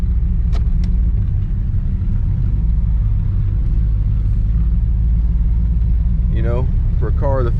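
A 1954 Chevrolet Bel Air drives with a deep, steady engine rumble heard from inside the cabin, loud and continuous, with brief faint squeaks near the end.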